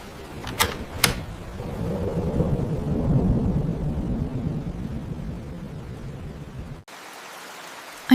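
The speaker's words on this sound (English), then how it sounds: "It's raining and windy." Steady rain with a low, blustery rumble of wind, a couple of sharp clicks at the start, cutting off abruptly near the end.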